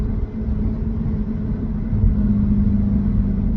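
A Lexus IS500 with an Apexi N1 Extreme exhaust gives a deep, steady rumble that swells slightly as the revs rise, heard close and alone without talk.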